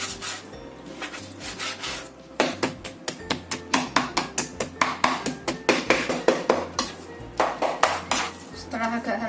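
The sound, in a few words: chopping chicken meat with a knife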